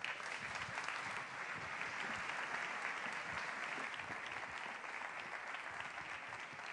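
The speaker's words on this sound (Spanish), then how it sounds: "Así que vamos a darle también un fuerte aplauso a Ilka Tapia." An audience at a technology talk on digital communication applauds a speaker, a steady, even roar of many hands clapping throughout at moderate distance.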